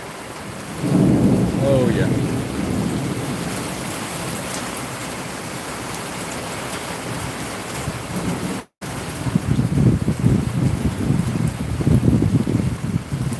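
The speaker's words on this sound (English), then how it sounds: "Definitely an electrically charged storm." Heavy rain pours during an electrically charged thunderstorm in Tennessee, with deep rolling thunder rumbling over the constant downpour and a brief exclamation from a man.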